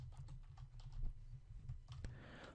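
Typing on a computer keyboard while building a city-name input field, heard as quick, uneven, close-up key clicks over a low steady hum.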